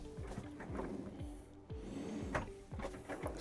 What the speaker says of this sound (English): Soft close on the drawers here,